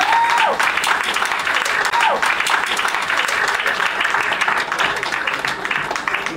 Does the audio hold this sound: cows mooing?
no